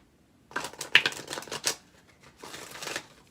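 Oracle cards being shuffled close by, a quick run of soft riffling snaps followed by a second, smoother shuffle, fairly quiet and with no talk.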